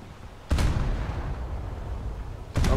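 Two heavy booming shots from the naval gun of USS Wilkinson in War Thunder, spaced about two seconds apart, each a sharp blast followed by a rumbling tail.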